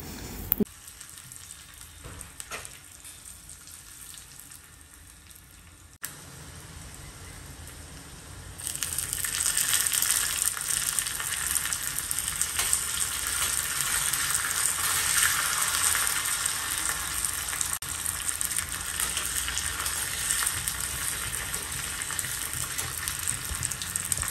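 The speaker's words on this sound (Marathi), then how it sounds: "त्याच्यात मी जिरे मोहरी टाकते आणि हिरवी मिरची जी तिखट नाही आहे ती वाली मिरची टाकते" Tadka of cumin, mustard seeds, finely chopped mild green chilli and curry leaves frying in hot oil: quiet crackles at first, then a loud, steady hiss of sizzling that swells and holds close up for the rest of the time.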